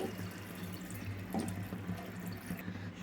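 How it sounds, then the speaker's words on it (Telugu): Water runs and splashes softly into a pot of rice for biryani, a quiet continuous trickle without any voices. "చూడండి వాటర్ మాత్రం పోసుకున్నామండి."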